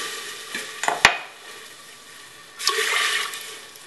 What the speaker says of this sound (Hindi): इसमें हम डेढ़ गिलास पानी डालेंगे